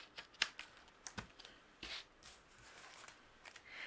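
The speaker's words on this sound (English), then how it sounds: "I'm just going to use my scissors and trim away the excess." Scissors snip through patterned cardstock paper in several quiet, crisp cuts at irregular intervals, trimming excess, close by with no talking.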